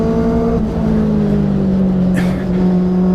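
Mazda Global MX5 Cup race car engine droning steadily at high revs with strong harmonic tones, loud and continuous throughout, a brief pitch shift midway.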